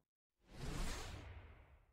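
A whoosh transition effect sweeps in after a brief silence, building into a broad, airy rush that peaks and then sustains before easing off, with no other sounds.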